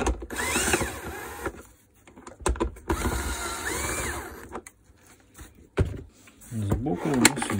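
A power drill runs in several whirring bursts, driving bolts back into a Makita VC2512L vacuum cleaner during a motor replacement, with rising and falling motor pitch close by and pauses between runs.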